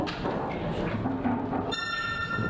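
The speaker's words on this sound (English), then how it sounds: "The noise you just heard is the heralding of the 15-second shot clock." During a snooker match, the 15-second shot clock signal sounds as a clear, sustained electronic tone that starts partway through and rises over low room noise.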